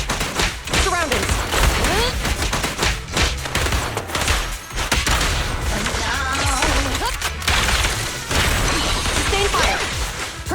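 Sustained gunfire rattles through a combat scene in the video game Zenless Zone Zero, dense bursts mixed with crashes, whooshes and thuds, with character voices calling out over the shooting.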